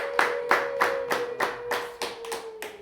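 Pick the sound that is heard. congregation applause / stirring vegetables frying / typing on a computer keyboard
congregation applause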